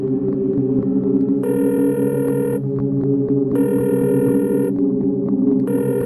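Telephone ringing heard over a speakerphone during a horror drama, with a steady throbbing hum beneath and repeated electronic ring bursts recurring about every two seconds, fairly loud and without talk.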